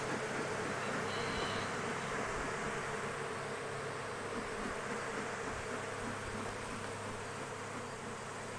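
Honeybees buzz steadily during a hive inspection, a dense, continuous drone from many bees close by, holding at an even level throughout with no voices.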